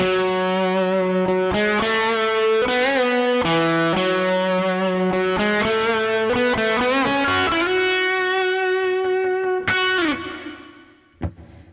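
An overdriven electric guitar plays a run of sustained, ringing notes with reverb, ending on a final chord that fades out.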